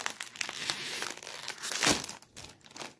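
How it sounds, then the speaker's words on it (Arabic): Crisp plastic snack bags are crinkled and torn open, with irregular rustling bursts and one sharp rip near the middle, close and loud with no talking. "هنفتح كيس كيس ونحط بقى الفارغ ايه"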